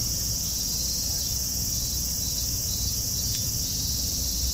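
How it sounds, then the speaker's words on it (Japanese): Cicadas in summer heat, a continuous loud, high, even buzzing drone that holds steadily throughout with a faint low background rumble and no talking. "セミの鳴き声がすごい。"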